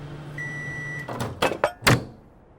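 A video game microwave oven hums steadily on low power with a thin tone, then stops into a few sharp clicks and thumps of the door and controls, all quiet and close.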